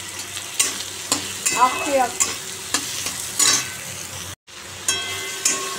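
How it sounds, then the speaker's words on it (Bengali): Spice masala with cumin powder, turmeric, salt, onion and green chilli stirred and fried in a pan, a steady sizzle broken by repeated scraping stirs, close by, with one brief spoken word. "দেখো বন্ধুরা, আমার মশলাটা কষিয়েছি"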